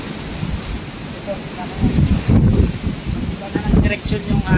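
Super Typhoon Rolly winds gust in surging bursts, roaring and buffeting the microphone with louder swells toward the middle and end, and a voice briefly heard.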